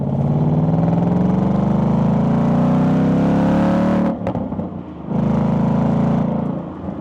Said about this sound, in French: V8, 5 litres, 460 chevaux, boîte mécanique, une voiture sérieuse pour des gens sérieux, avec un son d'ailleurs extrêmement sérieux